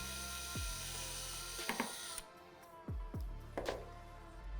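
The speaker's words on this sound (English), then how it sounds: "place the drill bit on top of the marked hole, slowly drill through" A handheld drill whirs in short bursts close by, winding down between runs, with clicks and rattles as the bit works through plastic pipe for a hydroponics kit, leaving burrs.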